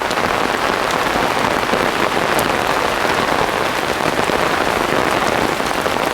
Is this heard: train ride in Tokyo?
no